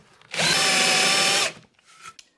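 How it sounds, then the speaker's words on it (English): A power drill fitted with a Forstner bit bores a hole in one loud, steady burst of about a second, close by, then winds down into quiet. "that's going to give us exactly the right depth and keep the Forstner bit centered on the hole"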